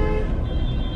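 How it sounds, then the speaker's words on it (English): A car horn honks inside a vehicle, one steady sustained toot with harmonic tones over low engine and road rumble. "You reach over and you honk my horn."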